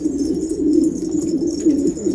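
A pigeon coos in a loft, a low throaty burbling repeated in soft rolling phrases, close and continuous, with faint rustling in the background.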